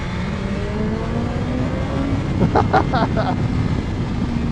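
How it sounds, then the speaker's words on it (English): A 2022 BMW S1000XR motorcycle in Triple Black idles with a steady engine hum, then gets a few quick throttle blips that rise and fall sharply, loud and close, before settling back to idle. "I'm just going to kind of show you the throttle response on this one because the pickup is so much quicker"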